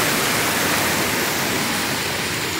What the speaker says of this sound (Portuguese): a famosa cachoeira d'água quente